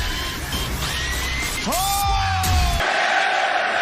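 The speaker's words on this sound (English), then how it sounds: "A raucous crowd on hand here tonight." A raucous arena crowd at an AEW professional wrestling event roars in a steady, dense wash, with sustained cheering and yelling and a few rising whoops near the middle.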